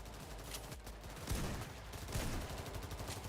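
Rapid bursts of Moscone SMG fire in Payday 3, dense crackling volleys mixed with other gunfire, sustained and fairly quiet in the mix.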